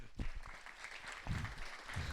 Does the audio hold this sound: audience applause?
yes